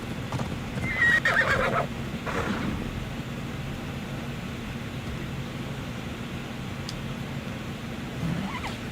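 A brief horse whinny rings out near the start over a constant low rumble in the video game The Fate of Atlantis (Fields of Elysium), followed by long stretches of steady background noise.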